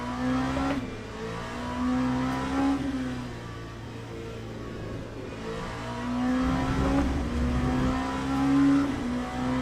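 A race car engine in the Le Mans Ultimate sim racing game drones and revs steadily, pitch rising and falling through gear changes, continuous and fairly loud with no talk.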